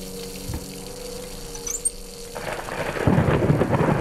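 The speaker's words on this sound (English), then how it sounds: "Yeah, it's raining." Steady rain begins to pour partway through Layers of Fear, rising into a loud, even hiss after a quieter stretch with a low hum.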